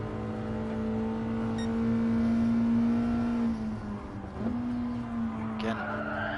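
Nissan Fairlady race cars lapping Brands Hatch, their engines giving a steady droning whine that dips as they brake and then pick up again, with a commentator talking over the top.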